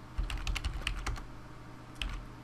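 Fingers type on a computer keyboard in short, uneven bursts of crisp key clicks, a quick flurry first and a few separate taps afterwards, close and fairly quiet.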